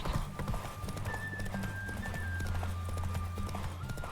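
A horse's hooves clip-clop rapidly in a steady galloping rhythm in The Witcher 3: Hearts of Stone, close and continuous, with a faint tonal music line running over it.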